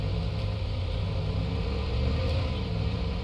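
The engine of a police patrol car in Police Simulator runs steadily with a constant low idle drone, close and unbroken for the whole few seconds.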